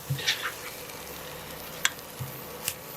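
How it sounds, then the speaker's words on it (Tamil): Beaten eggs frying in a pan for egg noodles, a faint, quiet sizzle broken by a few sharp clicks of a utensil against the pan. "ஒரு 2 நிமிஷம் வறுத்தீங்கன்னா முட்டை வறுவற்றும் தனித்தனியாக வரும்"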